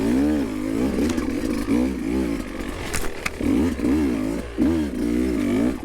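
A Beta 200rr two-stroke motorcycle rides in second gear, its buzzy engine revving up and down in repeated wavering surges, loud and close, with a brief clattery break midway.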